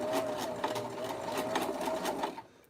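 A sewing machine stitches stretch fabric with a steady, rapid mechanical whirr and rhythmic needle clatter, close and fairly loud, stopping just before the end.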